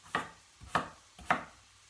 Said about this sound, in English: I'm going to go ahead and chop them up and get those started